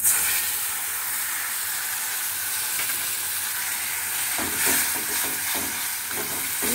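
Ground spice paste hitting hot oil with onions in a pan for a fish-roe muithya curry: a loud, continuous sizzling hiss close up, with bursts of spattering crackle as the paste settles and is stirred.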